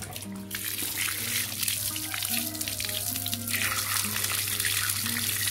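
Water running from a kitchen tap while two chickens are being smoked, a steady hissing stream over a constant low hum, with faint clinks and background sounds along the way.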